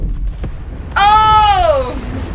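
A bomb blast in the video game It Takes Two: a loud, sudden tonal whoosh-boom that holds for about a second over a busy game background, then fades.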